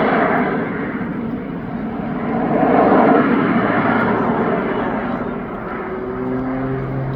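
At an air show in Bournemouth, an aircraft running a piston propeller engine and jet turbine engines together drones steadily overhead, swelling to a louder peak midway and then easing slightly, with a faint low hum persisting beneath.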